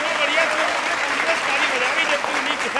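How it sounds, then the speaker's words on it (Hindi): A live audience claps through a stage show of political satire, a dense and steady wash of applause that stays loud and continuous, with a faint tonal voice or music line running through it. "ये देख, ये बजती है तालियां से।"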